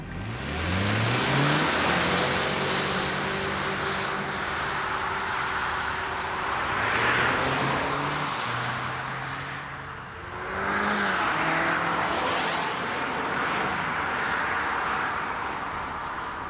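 A 2025 Honda Civic Hybrid sedan with a CVT drives and accelerates, its engine note rising and falling in repeated smooth sweeps under steady road and wind noise, heard from inside the car.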